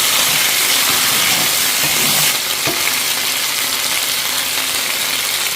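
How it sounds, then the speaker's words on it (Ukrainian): Buciky dumplings with salo tipped into a hot pan and frying over low heat, giving a loud, steady sizzle and hiss with occasional stirring clatter, no voices. "Я їх так прямо висиплю із блюда. І так усі треба піджарити."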